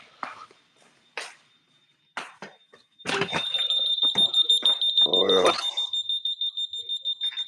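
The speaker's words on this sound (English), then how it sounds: "My alarm here is making a noise here." A smoke alarm with a low battery beeps and chirps insistently, the tones repeating rapidly close by, while people speak briefly and footsteps shuffle nearby.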